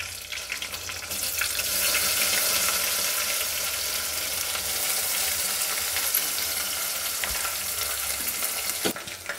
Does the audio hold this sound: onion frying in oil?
yes